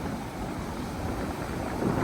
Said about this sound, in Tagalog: Ang ganda lang ng hangin.